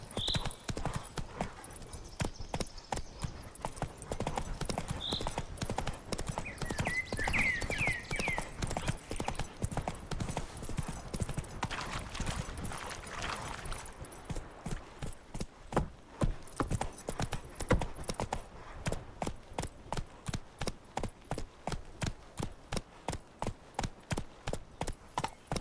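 Roach the horse gallops in The Witcher 3, a steady, rhythmic clip-clop of hooves that grows clearer and more evenly spaced toward the end, with a brief whinny early on.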